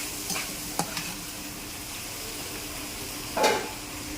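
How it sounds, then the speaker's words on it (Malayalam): Pork fries in a pan with a quiet, steady sizzle, while a few sharper stirring scrapes and clinks come through clearly at close range. "പോർക്ക് ഇങ്ങനെ കുറച്ച് ഫ്രൈ ആക്കിയതിന് ശേഷം കുറച്ച് ഉള്ളിയൊക്കെ ഇട്ട് വറുത്തെടുക്കും."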